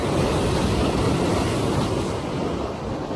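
Ocean waves crash and splash against rocks on the Northern California coast, a loud, continuous broadband roar of surf close by with wind buffeting, no voices.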